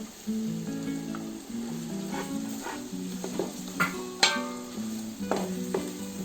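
Tomato puree frying in a pan for Andhra-style country chicken biryani, a steady close sizzle with occasional stirring clatter and sharp pops throughout, with no voices.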